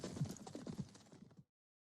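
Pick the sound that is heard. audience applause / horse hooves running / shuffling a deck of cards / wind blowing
horse hooves running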